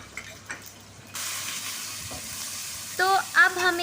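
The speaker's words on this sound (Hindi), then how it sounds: "अब हम चिलीज़ डालेंगे, चिलीज़ डालेंगे एंड अनियन 4 चॉप्ड, जो हम लोगों ने चॉप की थी उसी ऑयल में" Chillies and chopped onion drop into hot oil, breaking into a sudden steady sizzle that continues, with a few stirring clinks and faint background sounds near the end.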